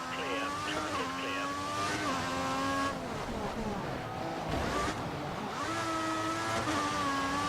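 Race cars running through a soaking-wet pit lane in F1 2014, engine whines rising and falling in pitch as cars pass and shift, over steady spray noise, with a voice talking over it.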